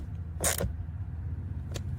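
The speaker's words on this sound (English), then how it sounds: "I'm going to mount the brackets to the Trac Seats TS-18 seat." Metal brackets being fitted with 8mm bolts to a Trac Seats TS-18 replacement tractor seat for a Mahindra 3016, giving two short creaking, scraping noises, close and moderately quiet.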